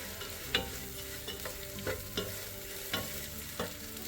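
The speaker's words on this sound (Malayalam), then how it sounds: "എല്ലാം കൂടെ നമുക്ക് നല്ലപോലെ യോജിപ്പിക്കാം" Spices being stirred into beef pulao in a frying pan, a steady low sizzle broken by regular scraping strokes of a spoon against the pan, close and fairly quiet, with no talking.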